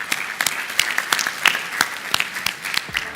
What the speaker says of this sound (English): if you could just a round of applause again for our presenters